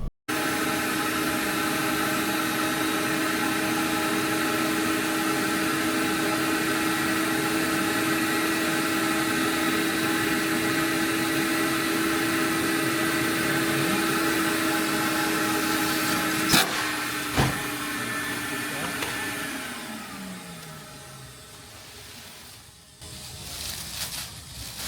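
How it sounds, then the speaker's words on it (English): A shop extractor pulls a vacuum on a plastic bag holding an upholstery cushion treated with pet-odor deodorizer, a steady loud whining roar that runs for most of the clip, then shifts pitch and winds down near the end. "We're going to use our extractor to place a vacuum source on this bag."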